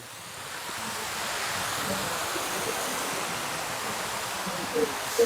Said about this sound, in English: We have this beautiful little waterfall that comes down.